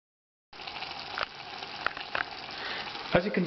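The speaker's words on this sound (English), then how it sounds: "So we're going to let that cook while we keep turning it over so it gets nicely browned all over." Mince for chilli con carne browning in a frying pan, a close sizzle broken by a few sharp scrapes and knocks as it is turned over.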